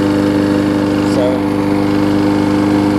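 Husqvarna lawn mower with an aluminum deck, freshly tuned up with a new gas tank and carburetor, runs steadily at close range, its loud, even engine drone continuing without a break.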